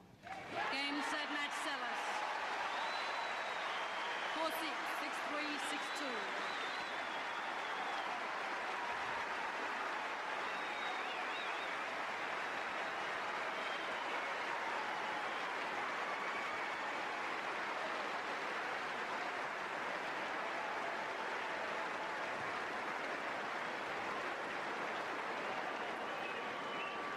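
A 14,000-strong tennis crowd at the 1993 Australian Open final rises in sustained, dense applause and cheering for champion Monica Seles, a steady roar of clapping holding at even loudness throughout with occasional whistles on top.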